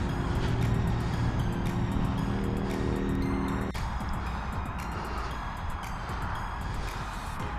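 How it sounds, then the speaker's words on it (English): Noisy motorbike passing beyond the fields on a countryside walk, a steady droning engine that hums loudly at first, then shifts to a rougher, broadband wash as it moves by. "Somebody's got a noisy motorbike."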